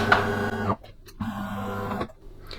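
A Delonghi Magnifica S coffee machine runs its turn-off cycle: a steady mechanical hum with a tonal whine stops, pauses, then resumes for another stretch before cutting out again, close and loud, no talking.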